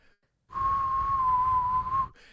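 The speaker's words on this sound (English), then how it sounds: "Just because you can whistle doesn't make you a whistler" A single person whistling one steady, sustained tone for about a second and a half, close and clear with no talk over it.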